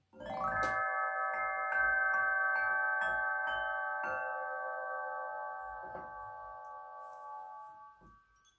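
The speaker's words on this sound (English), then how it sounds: "the chime is ready to be played in its horizontal position" A HAPI Vibrance metallophone, its metal chimes suspended horizontally on rope strings, is struck in a quick run of bright bell-like notes that then ring on together in a long, slowly fading shimmer, played alone.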